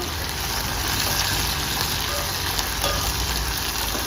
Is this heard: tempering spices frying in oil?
yes